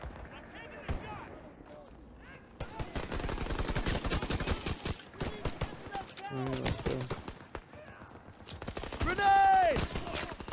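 Gunfire in the Call of Duty WW2 campaign mission "Ambush", with bursts of rapid rifle and machine-gun shots alongside battlefield noise and shouting voices.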